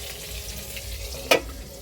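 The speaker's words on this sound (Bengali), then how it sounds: "এই যে ঢাকনা থেকে তেল পড়ছে ছটছট করে" Tangra fish fry under a lid with a soft, steady sizzle, and one sudden sharp crackle of spattering oil bursts out near the end.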